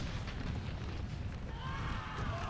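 Artillery fire in a Napoleon Total War American Civil War battle, a dense rolling rumble of booms and blasts under faint battlefield noise, moderately loud and continuous with no clear talk.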